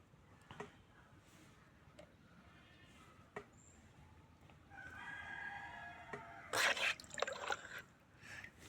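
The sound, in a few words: chicken crowing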